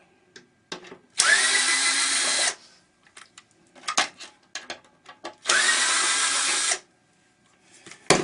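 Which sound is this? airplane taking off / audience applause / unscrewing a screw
unscrewing a screw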